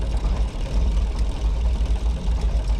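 A bush plane engine idles near Golden Ears Park, British Columbia, a close, loud, low-pitched rumble with a steady pulsing throb.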